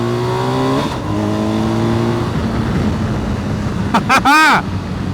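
A 2023 BMW R1250 GSA motorcycle accelerates hard in second gear, its engine note climbing steeply through the revs, then another vehicle whooshes sharply past nearby.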